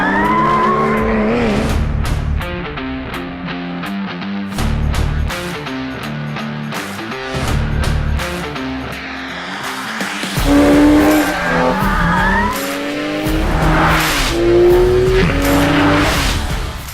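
Porsche 911 GT2 RS warming up its tires: a loud, close engine roar with revving and sustained tire squeal and skidding that rises and falls, with no speech.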